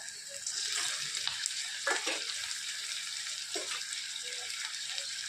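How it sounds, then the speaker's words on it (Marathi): Chopped tomato dropped into onions already frying in a pan for a dry fish and eggplant curry, giving a continuous close sizzle with a few soft stirring knocks and no talking. "हे बघा कांदा थोडंसं लाल झालेलं आहे आता टाकत आहोत आपण एक टमाटा"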